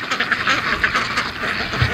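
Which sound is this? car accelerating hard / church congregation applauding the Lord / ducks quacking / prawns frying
ducks quacking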